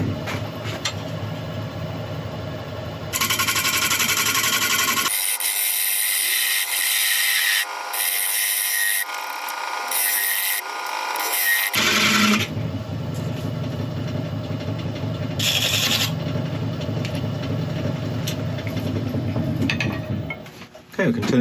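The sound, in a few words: wood lathe turning a tenon on grass tree root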